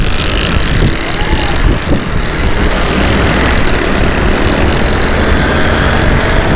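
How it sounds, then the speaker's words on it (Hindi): Loud, broadband road rumble on a Karachi street as a truck and a motorcycle pass very close by, with heavy engine and tyre noise filling the scene and a voice speaking over it. "ये ट्रक और ये मोटरसाइकिल वाला कितने करीब से गुजरा है"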